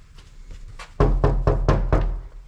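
Five firm knocks on the door of an abandoned house, close and evenly spaced in quick succession after a moment of quiet room tone.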